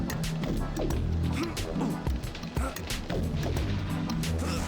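Video game explosions go off as a rapid string of sharp booms and crashing impacts, dense and loud, with brief spoken voices in between.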